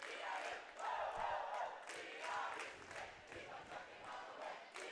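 A cheer squad at a high school boys basketball regional final chants in rhythmic bursts in a gym, their voices carrying over a crowd with a few faint thuds.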